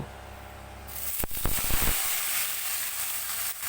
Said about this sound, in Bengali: আর জলশুদ্ধ আলু আমি ঢেলে দিয়েছি